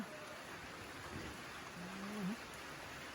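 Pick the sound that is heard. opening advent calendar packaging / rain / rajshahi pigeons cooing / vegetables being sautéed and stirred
rain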